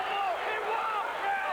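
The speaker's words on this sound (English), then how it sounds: "You can hear the crowd behind us calling for a walk" Basketball arena crowd at Vanderbilt during a 1993 game against Kentucky, a steady loud roar of many voices calling out together from behind, filling the whole clip without pause.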